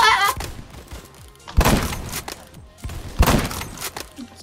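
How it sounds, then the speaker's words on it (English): An AK-74 fires in the video game Phantom Forces, with two loud separated bursts of gunfire over a thumping background of in-game footsteps and impacts. "I'm gonna try the AK-74 on a dude."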